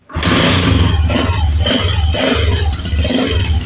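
A Honda Deluxe 125 motorcycle engine starting up and settling into a loud, close, throbbing idle with a rapid steady pulse, with no other sounds.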